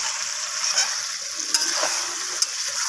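Chicken being slowly sautéed in oil for a Bengali curry, a bright, even hiss of frying close by, with a couple of sharp clicks from a utensil and no talking.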